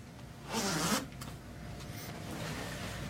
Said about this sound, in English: zip up the cover on the footrest